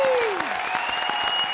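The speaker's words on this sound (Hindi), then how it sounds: "यार जोरदार तालियां मार दो" A studio audience claps loudly throughout at a comedy show, dense applause close and even.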